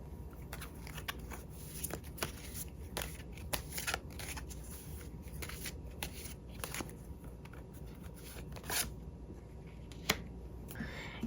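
Tarot cards being shuffled and handled at close range, a steady papery rustle broken by frequent sharp flicks and snaps throughout.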